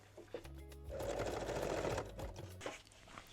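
A sewing machine runs a straight or zigzag stitch along the edge of a garter belt strap, giving a short, close burst of steady mechanical whirring that starts, holds for about a second, then tapers off.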